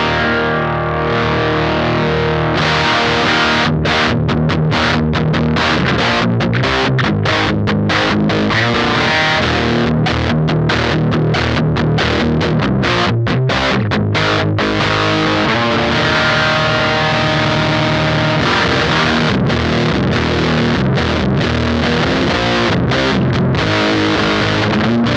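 An electric guitar runs through the Cross Dissolve pedal's drive circuit with the gain turned up, giving a thick, heavily distorted sound of sustained chords and palm-muted chugs that stays loud and continuous without talk.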